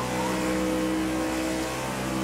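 A race car engine roars in the driving game Project CARS 2, a loud, sustained high-revving drone with steady tonal harmonics, heard alone without talking.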